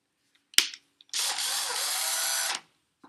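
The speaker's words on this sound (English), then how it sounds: "Obviously comes with the screw gun." A John Deere 18-volt cordless screw gun gives a sharp click, then whirs steadily for about a second and a half before stopping, loud and close with no talking.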